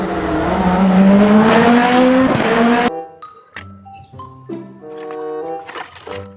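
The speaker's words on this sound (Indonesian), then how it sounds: "Wow, keluarlah mobil balap." Toy race car gives a loud electronic engine rev that climbs in pitch for about three seconds before cutting off, followed by scattered clicks and faint handling sounds.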